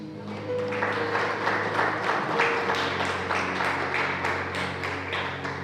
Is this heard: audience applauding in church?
yes